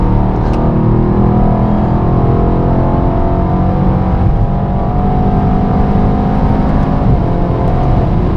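Mercedes-AMG E63S Edition 1, a 612 hp car weighing about 1.9 tonnes, accelerates hard with a loud, continuous deep engine roar heard from inside the cabin throughout, with no voices over it.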